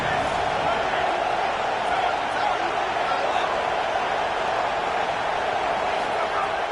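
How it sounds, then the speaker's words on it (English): A stadium crowd at a Clemson college football game roars in a dense, steady wall of noise, loud and unbroken throughout, with a voice talking faintly underneath. "Listen to this crowd just shaking the girders of this place"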